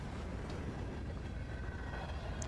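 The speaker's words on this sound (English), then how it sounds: "Maybe it's just the train noise." A train in the video game Darq rumbles with a steady, dense low roar throughout, close and continuous, with a faint high squeal near the end and no talk.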